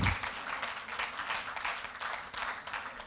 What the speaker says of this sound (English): I think Auntie Aloze deserves a resounding round of applause.